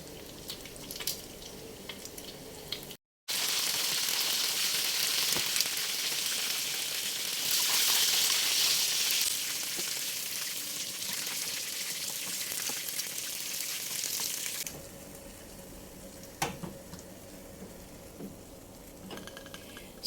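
Corned beef lumpia frying and browning in a pan of oil: a steady, loud hiss and crackle of sizzling that runs for about twelve seconds, then drops to quieter ambient kitchen sounds with small clinks.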